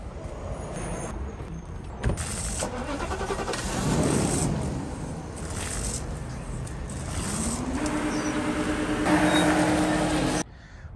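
A Mercedes W140 S500 is started and pulled around; an engine cranks and catches, then revs and idles with rising tones, amid bumps and clatter, fairly close and at moderate volume.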